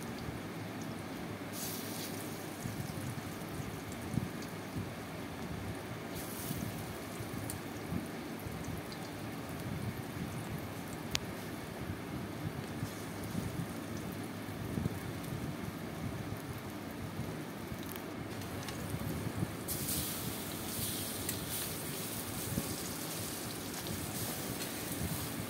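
Chana dal fritters (bora) deep-fry in hot oil, giving a steady, fairly quiet crackling sizzle like rain. It runs without a break, with faint spatters rising now and then.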